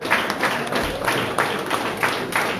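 An audience applauds at a speech during the patronal festival of Vert-Pré, a steady, moderately close patter of many hands clapping that continues without a break.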